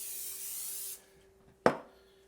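Cooking spray hisses onto a pan for about a second before a meatball sandwich is assembled, followed by a single sharp knock or clatter.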